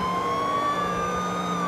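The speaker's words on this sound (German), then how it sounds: "ich habe die Sirene schon längst aktiviert" A police car siren in the video game GTA IV wails steadily and loudly, a continuous electronic tone with layered harmonics and a faint engine rumble beneath, no speech.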